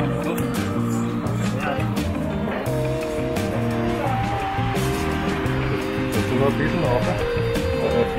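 A car moves off during a driver training session on a track, its engine droning steadily under continuous talk in German, with a constant rumble and no clear pause.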